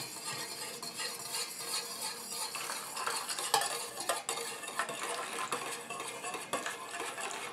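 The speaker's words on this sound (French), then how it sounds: "Je prends ma phase huileuse que je verse dans mon récipient et je rajoute ma phase aqueuse tout en mélangeant" An oil phase and a water phase are mixed together into a homemade hair conditioner emulsion in a container, giving rapid, repeated scraping and clinking strokes that are close and moderately quiet, with no talk.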